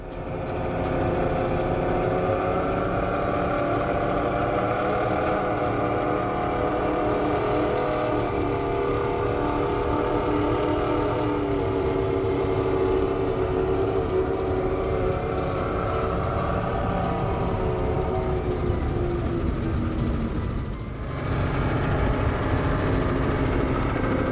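Powerful 3,000-horsepower powerboat racing engines roar continuously at full throttle, a deep sustained rumble with slight pitch shifts and a brief dip near the end.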